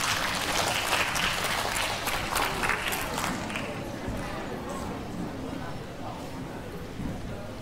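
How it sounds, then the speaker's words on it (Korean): A crowd applauds a university and general division contestant at a Korean-language speech contest, a thick burst of clapping that is strongest at the start and then thins and softens. "큰 박수 부탁드립니다"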